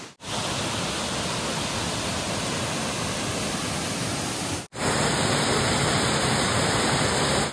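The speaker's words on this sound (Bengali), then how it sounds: "ওরে বাপ রে বাপ, মাসকান্ডা ওয়াটারফলস।" Maskanda waterfall in Purulia roars as a dense, constant rush of falling water, loud and close, with a brief cut midway before the same steady roar resumes; no voices are heard.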